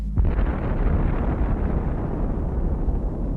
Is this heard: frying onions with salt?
no